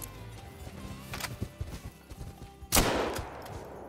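A single sharp rifle gunshot in the hunting video game Call of the Wild, loud and close with a decaying tail, after a stretch of faint thumps and ambient game sounds.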